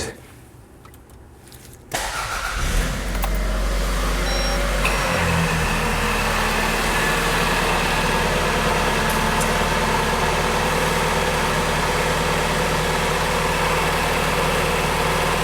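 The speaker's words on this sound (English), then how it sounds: "So let me turn on the AC, start the car" A Toyota RAV4 engine cranks and fires after a quiet moment, settling into a steady, loud idle with a low rumble close by, the air conditioning switched on.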